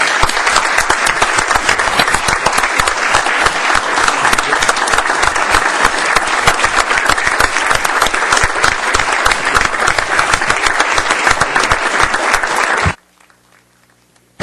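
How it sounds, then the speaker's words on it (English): Sustained loud applause from a room of commissioners at a fisheries board meeting, dense and even for about thirteen seconds before it stops abruptly. "I think a round of applause would be in order to my colleague and friend"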